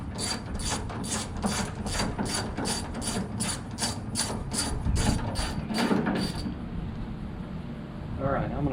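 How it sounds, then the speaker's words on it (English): A ratchet with a 9/16 socket on a long extension works door hinge bolts on a 1955 Chevy four-door, giving a close, rapid run of even clicks over several seconds that stops, followed by a quieter scrape. "Now there's 2 bolts down inside, and they take a 9/16 socket"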